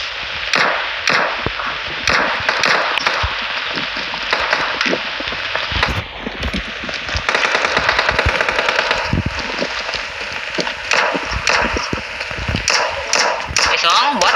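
Rapid bursts of gunfire from the battle royale video game PUBG crack out repeatedly in quick, sharp clusters, some single shots and some volleys, while excited players talk over the action throughout.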